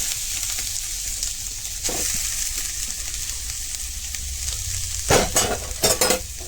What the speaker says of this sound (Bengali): এখানে ঘি 1 চামচ দিলাম, এখানে নারিকেল দিয়ে দিলাম